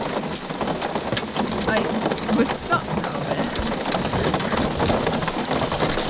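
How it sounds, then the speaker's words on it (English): Hail pelts down hard on a farm after a sunny morning, a dense, loud, unbroken patter across the whole stretch, with a person speaking briefly over it. "It's been really sunny all morning and now it's hailing, obviously."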